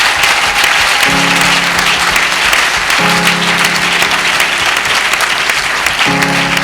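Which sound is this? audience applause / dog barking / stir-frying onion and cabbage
audience applause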